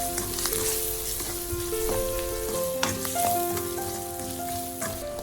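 Turmeric and chili powder fry in a pan and are stirred, producing a steady close sizzle with scraping strokes and faint tonal music underneath.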